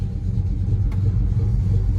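A 1971 Oldsmobile Cutlass Supreme being driven, its engine a steady, deep low rumble heard from inside the car, moderately loud with little change across the short stretch.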